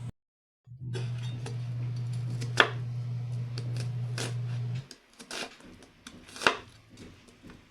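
A knife cuts through a Korean fish cake down the middle with a few sharp, faint cutting clicks over a steady low kitchen hum that stops partway through, with no talk.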